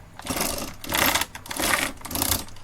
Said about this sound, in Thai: มันกึกกึกกึก เพราะว่าโซ่ไม่ลงฟัน